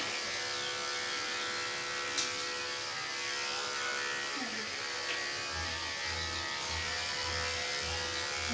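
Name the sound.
electric clippers with 30 blade trimming dog's ear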